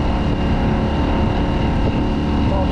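A motorboat engine drones steadily and loudly, with a constant low rumble and wind buffeting the microphone throughout.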